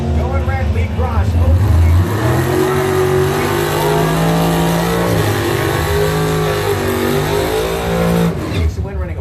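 Drag race between a 1997 Ford Mustang and a Chevy, loud engines revving and roaring with rising and falling pitch across several seconds, with a voice talking over much of it.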